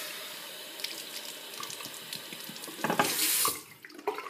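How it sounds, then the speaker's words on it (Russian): Tap water running into a glass flask during cleaning, a splashing stream that builds and rises in pitch as the vessel fills, close and alone, then cuts off briefly before resuming. "даже если набрать в нее воды"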